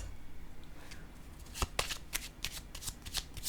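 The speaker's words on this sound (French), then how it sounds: "je vais déposer une autre carte." Tarot cards shuffled and laid down on a table during a reading, a soft steady riffle followed by several crisp slaps and flicks as the cards land, close up and alone with no voice.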